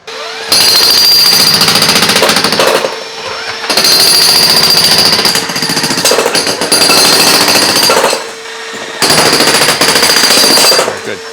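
A hammer chisels out an old basement waterproofing system in three long, very loud, close bursts of rapid percussive pounding, separated by brief pauses.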